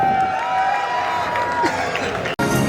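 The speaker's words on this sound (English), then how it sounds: "Love everyone cheering on people as they enter the park." A crowd at the Epic Universe theme park cheers guests entering on opening day, a continuous wash of whoops, shouts and clapping with a rising whistle-like tone, and a brief cut near the end.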